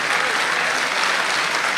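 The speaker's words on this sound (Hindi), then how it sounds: "मजमूई तौर पे यार हाफिज भाई के लिए तालियां बजाएं" An audience at a mushaira poetry recital in Dubai claps in a dense, continuous burst of applause, loud and close, filling the whole short moment.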